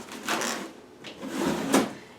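A drawer in a craft-fair supply cart or storage unit is pulled open and pushed shut, making three short sliding, rattling bursts across about two seconds with nobody talking.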